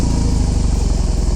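A brand-new motorcycle engine runs close by with a loud, steady pulsing idle throughout the short moment.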